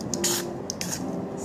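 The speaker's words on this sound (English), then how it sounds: "I already put it in this small spray can, so just spray on." Optrex eye drops are sprayed from a small spray can in two short hissing bursts, close and fairly quiet.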